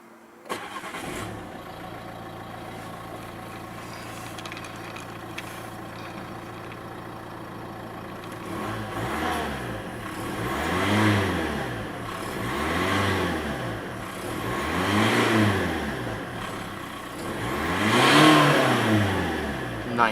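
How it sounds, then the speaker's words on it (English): A 2015 Nissan Pulsar 1.5 dCi diesel engine starts and then revs repeatedly, four rising-and-falling surges climbing from a steady idle, loud and close with no talk. "To start, put your foot on the brake and press the engine stop button next to the"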